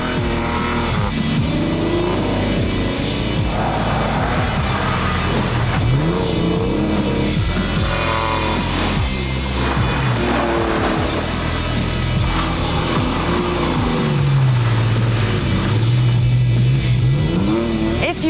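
A TVR T350 sports car is driven hard, its engine revving and rising in pitch through repeated accelerations and gear changes, loud and close throughout with tyre noise and occasional voices underneath.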